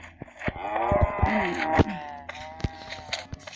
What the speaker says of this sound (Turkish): Baya güzel inekler varmış